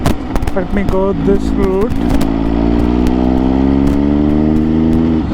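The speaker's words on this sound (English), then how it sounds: "That's a loud exhaust, need to be changed if I'm taking this." Loud exhaust of an MV Agusta motorcycle: someone talks briefly over the engine, then a steady, close, rising engine drone holds as the bike pulls away.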